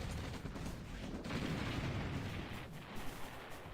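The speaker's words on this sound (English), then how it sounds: "Nice artillery strikes." Artillery strikes in the OpenRA Red Alert strategy game, a dense rumbling barrage of distant booms and blasts rolling continuously without a break, low and steady in level, no voices.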